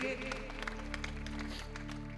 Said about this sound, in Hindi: किसे किसे आनंद आ रहा है तालियां बजाकर बताइए।